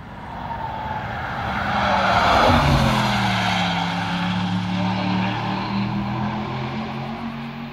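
A test car passes on the Nürburgring track, its engine swelling to a loud peak near the middle and then fading away with a falling, droning pitch, heard alone without talk.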